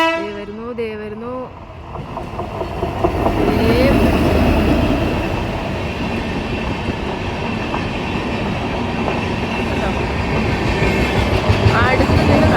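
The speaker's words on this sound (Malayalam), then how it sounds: "ട്രെയിൻ വരുന്നത് ഇവിടെ നിന്നാൽ മതി, എല്ലാം നല്ല അടിപൊളിയായിട്ട് കാണാം. ദേ വരുന്നു, ദേ വരുന്നു." A passing train roars by close at hand with a sustained rumble and rattling wheels, building after a brief horn-like toot and voices at the start, then holding loud to the end.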